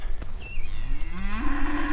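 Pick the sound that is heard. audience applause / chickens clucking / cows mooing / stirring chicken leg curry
cows mooing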